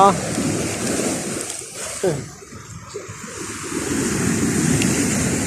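Steady rushing sea surf at a beach, with waves washing in and out, mixed with wind buffeting the microphone outdoors.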